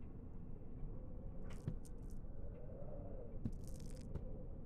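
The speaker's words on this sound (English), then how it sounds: "the sound when your sanity gets low is like really crunchy and yummy" The low-sanity effect from Amnesia: The Dark Descent is a faint, steady crunchy, scratchy texture over a low drone, with a few brief crackling bursts scattered through it.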